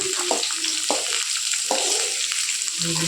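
Ingredients for egg rice sizzle steadily in a pan while a utensil stirs them, giving several distinct scraping strokes over continuous, close frying noise.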